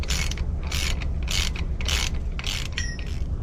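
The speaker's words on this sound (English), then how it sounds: "Now we're just gonna tighten down the 2 nuts and bolts." Nuts and bolts on a fan coil unit pipe clamp are tightened with a ratchet, giving bursts of rapid clicking in an even, repeated rhythm. The clicks are close and fairly loud, with five or six short runs and no talk.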